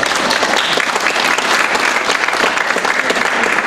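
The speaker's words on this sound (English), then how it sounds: "You guys need to give yourselves a hand." An audience at a California political rally for a governor candidate applauds loudly and steadily, a dense, continuous wash of many hands clapping close by, with faint crowd murmur underneath.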